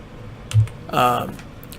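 A couple of quick keystrokes on a computer keyboard, close and crisp, followed by a short burst of a voice.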